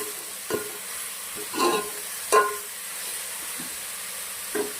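Vegetables sautéed in a pan for Manchow soup, a soft steady sizzle broken by a few brief stirring scrapes and bursts, close and moderate in level, with no talking.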